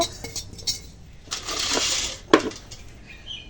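Cumin seeds stirred in a dry wok (kadai) set over a lit stove, with light metallic scraping and clinks, a denser rustling stretch in the middle and one sharp knock near the end, no talk.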